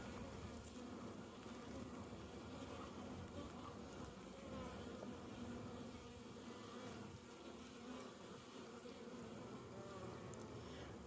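Honey bees buzzing busily at a Flow hive, a steady close swarm drone running without a break under light outdoor ambience.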